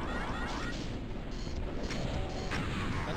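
Enemy gunfire in the Doom mod Dimension of the Boomed, a steady, unbroken barrage of booming shots and crashes, loud and continuous with no pause.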